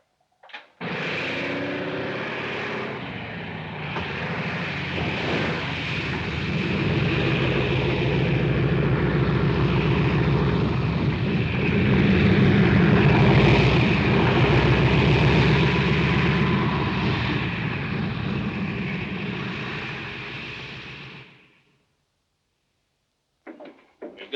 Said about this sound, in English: Group Captain Attalus plane coming in